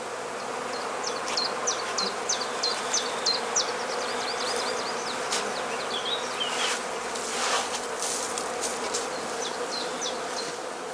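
Bees forage around a traditional woven skep hive in spring, their dense, steady buzzing filling the air up close for the whole stretch, with a few brief sharper chirps above the drone.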